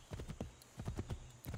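Horse hooves clip-clop at a steady walking pace in the Assassin's Creed 3 video game, with soft, uneven thuds in quick succession and no talk.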